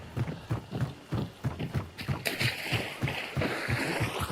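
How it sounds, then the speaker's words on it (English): Horses in the video game Hunt: Showdown, a steady rapid clip-clop of hooves that stays close and loud, with splashing as they move through water and faint background noise. "Yep, you're definitely hearing horses."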